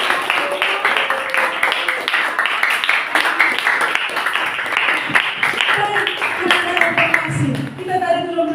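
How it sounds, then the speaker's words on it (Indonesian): A classroom of students claps together in a dense, steady burst of applause lasting several seconds, with voices mixed in underneath. "Semua jawaban benar, tepuk tangan."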